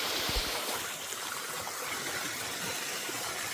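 Flowing water at Edward Stanley waterfall near Somerset Dam, Queensland, heard as a steady, full broadband rush that continues unbroken throughout, close and fairly loud with no voices.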